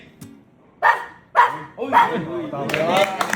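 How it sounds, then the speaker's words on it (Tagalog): A dog gives several sharp, loud barks on command, spaced about half a second apart, and they run into a denser stretch of barking and yelping. Voices are heard around the barks. "Tahol na galit."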